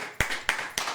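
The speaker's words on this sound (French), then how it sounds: "Applaudis pour moi, chaud." Three sharp hand claps spaced evenly about a quarter second apart, close and crisp with nothing else heard.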